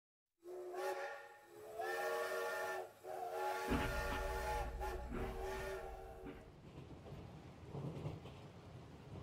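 A steam train whistle sounds loud and close, holding several long blasts with a rumbling, hissing run of the locomotive beneath that fades toward the end.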